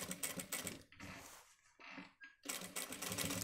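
A sewing machine runs slowly while stitching a shirt, its needle ticking in uneven, moderate bursts with short pauses between, close by and fairly quiet.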